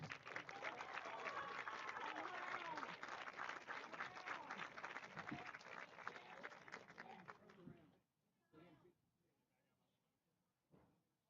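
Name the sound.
applause for senior softball players and families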